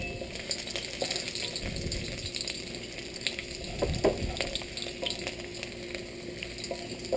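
Garlic frying in a pan for stuffed milkfish, a steady close sizzle with scraping and stirring sounds and occasional light utensil clinks against the pan.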